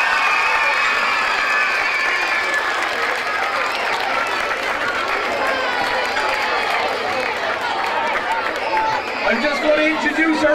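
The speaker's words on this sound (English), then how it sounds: "give yourselves a big round of applause for your support yesterday" A crowd of children at a Cork County hurling final in Sarsfields versus Glen Rovers applauds and cheers continuously, dense clapping filling the whole stretch.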